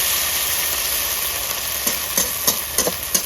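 Chopped ginger stir-fried in a pan for a village-style egg and brinjal dish, sizzling steadily in hot oil with a few sharp scraping strokes of a spatula toward the end.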